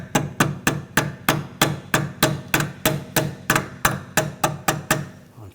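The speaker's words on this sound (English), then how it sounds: "we can use the hammer and just give it a little tap" Evenly spaced hammer taps tapping a brake hose clip onto its bracket on a Nissan Rogue, about fifteen of them in a steady rhythm, close and fairly loud with no talking.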